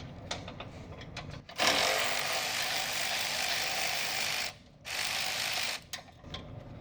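A ratchet fitted with a 10mm socket works loose a bolt on an intercooler bracket during an IMR Stinger intercooler install, giving a steady run of clicking with a brief pause and a couple of short bursts near the end, with no voices.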